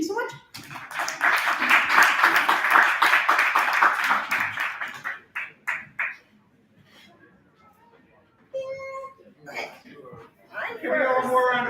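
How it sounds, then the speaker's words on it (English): Audience applause at a poetry open mic, a burst of brisk clapping that fills the first few seconds before thinning out, followed by scattered voices and light laughter. "Give me one more round of applause for this glorious institution"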